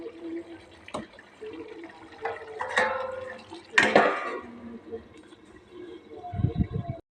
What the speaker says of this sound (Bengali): আবার কিছুক্ষণ ঢাকনা দিয়ে দেব।